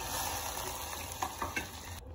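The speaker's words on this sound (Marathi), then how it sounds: "थोडासा ब्राऊन कलर येईपर्यंत आपल्याला कांद्याला फ्राय करून घ्यायचा आहे" Onion frying in oil inside a pressure cooker, with mustard seeds and curry leaves, sizzling steadily up close with a few brief stirring knocks, then cutting off abruptly at the end.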